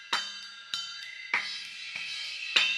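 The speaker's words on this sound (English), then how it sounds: "This is the bleed in the tom mic of the rest of the drum kit." Drum kit bleed picked up by a tom mic and band-pass filtered, with sharp thin hits about every 0.6 seconds, each followed by a brief ringing decay and nothing underneath.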